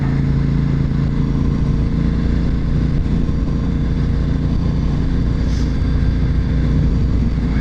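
A Honda RC51 motorcycle cruises on a highway, a steady loud engine drone with constant wind roar, sustained and even throughout with no talking.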